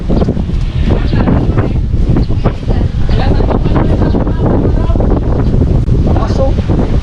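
Strong sea waves on a windy coast during the amihan season, heard as a continuous loud roar of surf with heavy wind buffeting the microphone throughout.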